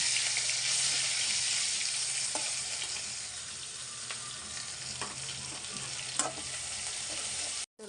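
Onion frying in oil with ginger garlic paste just added, a steady loud sizzle with crackling pops and stirring scrapes throughout, no talking.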